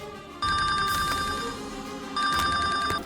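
A phone ringtone sounds loudly in two electronic bursts of warbling chimes, separated by a brief pause, over faint background noise.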